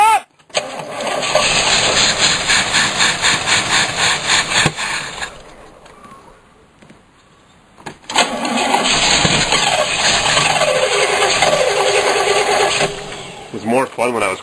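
A cold motorhome engine grinds through several cranking attempts, goes briefly quiet, then catches and runs with a loud, rough, steady clatter.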